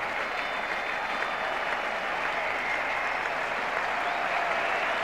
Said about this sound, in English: Applause from the England fielders, and Richards again in really cracking form